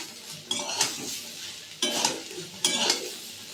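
Vegetables are stirred and sautéed in a pan. A soft sizzle runs underneath while the spoon scrapes in three or four rhythmic bursts. The sound is close, and no one speaks.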